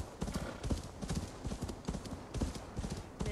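Horse hooves pounding in a steady galloping rhythm while riding in Assassin's Creed Valhalla, close and continuous clip-clop beats repeating throughout.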